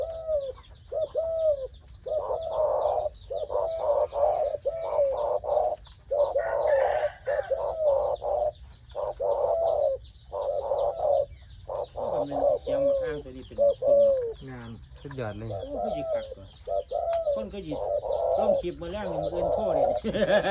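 Deep, rhythmic dove coos repeat steadily up close, with someone talking over the later part and some background bird chatter.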